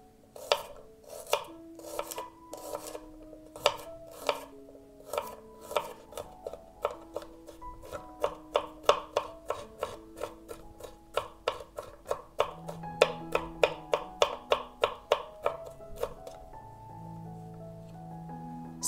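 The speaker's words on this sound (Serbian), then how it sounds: "Prvo ću iseckati 6 češnja belog luka." A knife chops six garlic cloves on a cutting board in steady, rhythmic taps, close and crisp, slowing near the end, with soft tonal music underneath.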